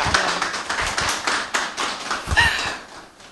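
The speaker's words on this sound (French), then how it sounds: "Applaudissez pour moi, non?" Audience members at the GNADOE Magazine Awards 2020 ceremony clap unevenly, a loose scatter of individual hand claps with a few stronger bursts, close and moderately loud, thinning out toward the end.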